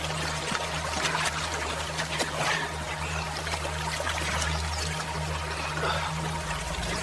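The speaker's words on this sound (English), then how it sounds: "Finally, we found a stream with good drinking water." Flowing stream in a forest, a steady broadband rush of trickling and pouring water, continuous and fairly close, with a low hum underneath.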